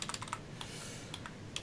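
Fingers type on a computer keyboard in a quick, uneven burst of close, clicky keystrokes, then pause briefly before a few more taps, with no voices.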